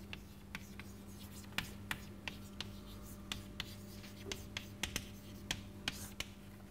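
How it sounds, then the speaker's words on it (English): Chalk or pen tapping and scratching on a board as a definition is written out during a mathematics lecture on local properties of rings, irregular sharp ticks and short strokes, quiet and close over a low room hum, no talking. "so let me just write down this definition"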